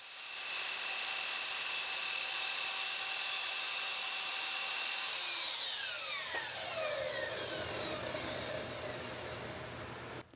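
A miter saw cuts a cove along the length of a wooden board, its loud high motor whine holding steady for several seconds before spinning down with a falling pitch, alone without talk.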